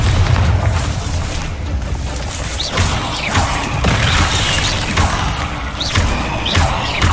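Bombarda spell explosions in Hogwarts Legacy, heavy booming blasts with crashing debris going on continuously, with a few whooshing spell sounds cutting through the loud rumble.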